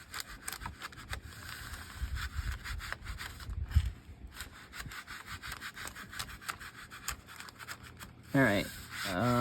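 Tool pressed and rubbed across wallpaper to smooth it flat, a close rhythmic scraping and brushing with repeated strokes, ending with a brief voice.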